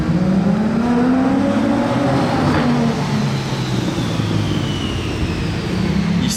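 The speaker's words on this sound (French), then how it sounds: "elle fait un bon bruit cette SP2" An SP2 sports car engine revs loud and close in Monaco, a rising and falling roar with sustained growling tone, no speech over it.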